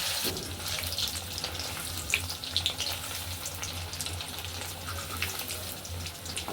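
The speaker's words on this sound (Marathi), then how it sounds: "आपले ते तुकडे आता कढईमध्ये तेल टाकून तळून घ्यायचं आहे." Paneer pieces frying in oil in a kadhai for dhaba-style paneer masala, a steady close sizzle with a hissing, water-like crackle that keeps going throughout.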